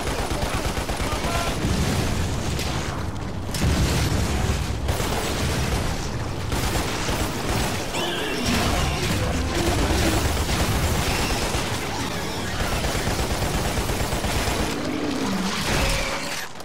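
Dense, nearly continuous video-game gunfire and blasts from Lost Planet in a city warzone, loud and close, with rapid bursts overlapping into a constant barrage.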